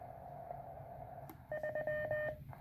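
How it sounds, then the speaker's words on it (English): A converted MTR3b QRP CW transceiver beeps out a single Morse digit as a short run of clean tone pulses, following a soft click and a faint background hum. "3 is displayed and it sends 3 in CW, meaning that this is the 30 meter band"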